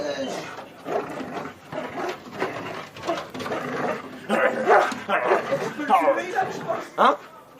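An attack dog barks in short, repeated bursts during bite training at a live event, with people talking over and between the barks.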